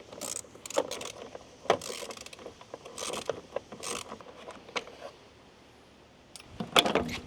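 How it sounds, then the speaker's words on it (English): Ratchet with an 8mm socket working on the tail light screws of a Ford Escape, faint scattered clicks and metallic rattles up close, with quiet pauses between. "That's an 8mm socket."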